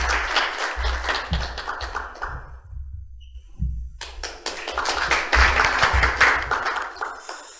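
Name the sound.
audience applause welcoming a speaker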